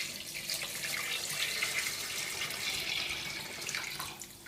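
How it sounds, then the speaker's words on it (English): Water pouring into a pot for broccoli soup, a soft, continuous splashing hiss with faint uneven gurgles, steady for several seconds, with no talk. "Now we will add 6 cups of water."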